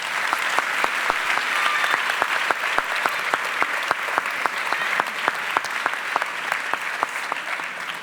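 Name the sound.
audience applause at a theatre presentation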